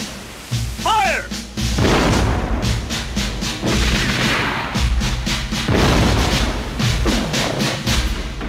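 Firing squad volley at a forced wedding ceremony, heard as repeated booming gunfire blasts and thuds across the scene, loud and close, mixed with shouting voices and a brief sliding vocal cry near the start.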